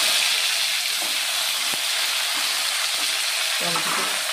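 Tomato dropped into hot oil already tempered with cumin, dry red chilli and bay leaf, giving a steady loud sizzle and crackle throughout, with a few faint clinks and stirring scrapes beneath.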